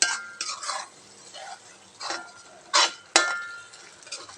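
A spoon stirs onions and green masala paste in a pan while cooking a meat dish, giving scattered scraping and clinking strokes against the metal, close and fairly loud, with pauses between bursts.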